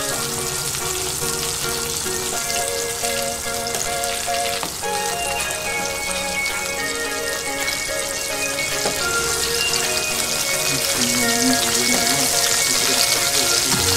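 Eggplant slices fry slowly in oil over moderate heat, giving a dense, even sizzle and crackle that continues throughout, with a steady tonal hum in the background.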